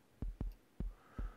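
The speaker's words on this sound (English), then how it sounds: "here's the sound of the sub bass just by itself" Four short, deep synth sub-bass thumps in an uneven rhythm, clean and isolated with nothing else playing.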